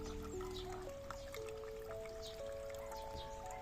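A thin film of water trickles through a hydroponic NFT system, a soft, continuous faint flow with light dribbling, and steady tonal hums run underneath.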